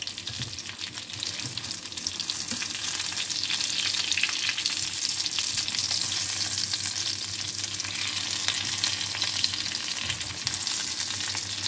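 Breaded curry-spiced fish fillets fry in a pan of oil, giving a steady, close, hissing sizzle with crackling pops throughout and no talking.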